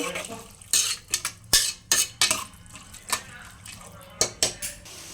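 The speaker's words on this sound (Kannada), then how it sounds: "ಇಷ್ಟು ನೀರು ಒಂದು ಮಿಕ್ಸ್ನ ಕೊಡೋಣ" A utensil stirs vegetables with water in a cooking pot, producing a run of sharp metallic clinks and scrapes in an irregular rhythm, close and fairly loud, with no talk.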